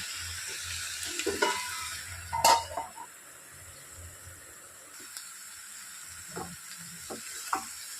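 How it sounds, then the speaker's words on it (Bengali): Cabbage curry cooking in a pan over low heat, a faint steady sizzle with occasional close utensil scrapes and taps as it is stirred. "একটু ঢাকা দিয়ে দিয়ে সিম আঁচ করে একটুখানি কষিয়ে নিতে হবে।"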